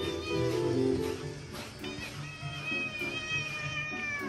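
A cat meows repeatedly at close range, drawn-out tonal cries with a slightly wailing quality and a little background voice.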